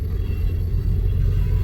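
A freight train's rear DPU locomotive rumbles past nearby at Ashland, Nebraska, a heavy, steady low roar without any break or voice.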